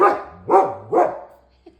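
A dog barks three times up close, loud and evenly spaced, followed by a tiny faint yip.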